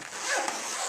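A small earphone carry case is unzipped in one steady, close, rasping pull lasting about a second, heard alone.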